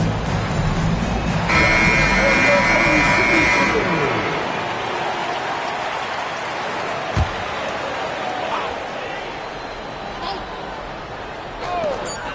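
A long electronic buzzer blares at the end of a basketball game period in NBA 2K, loud over crowd noise and arena babble, then the crowd roar carries on.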